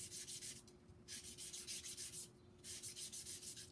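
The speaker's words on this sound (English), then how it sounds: "further hone that point on the finer sandpaper right here" A point is honed by rubbing it back and forth on fine belt sandpaper clipped and taped to a clipboard, a steady close scratchy rasp in rhythmic strokes with two brief pauses.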